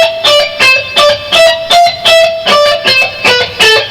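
Electric guitar in a rock style plays a scale at a slow tempo, about a dozen evenly spaced picked notes with a bright, slightly driven tone, loud and alone.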